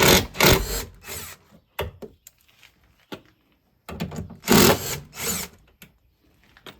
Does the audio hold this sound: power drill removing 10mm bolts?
yes